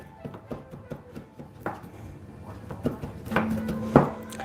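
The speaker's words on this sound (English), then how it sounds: "I'm going to chop them finely" A knife finely chopping candied orange on a board, producing quick, light, irregular taps close by, with a few louder knocks toward the end.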